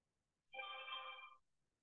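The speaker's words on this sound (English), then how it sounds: "My phone is ringing." A phone rings once in a single short electronic trill lasting under a second, fairly faint and heard alone in an otherwise quiet room.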